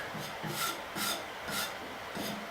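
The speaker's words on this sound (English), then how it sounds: "that's when you can take your putty knife, like I did before, and that's when you're going to kind of give it that rustic look" Putty knife rasping over blended paint to rough it into a rustic finish, five rhythmic scraping strokes about half a second apart, close and fairly quiet with no voices.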